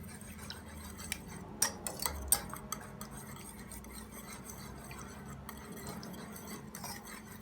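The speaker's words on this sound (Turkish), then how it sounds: "Bunları güzelce çırpıyoruz." Olive oil and baking soda whisked together in a bowl for börek dough, a steady soft stirring rustle with scattered light clinks of the utensil against the dish.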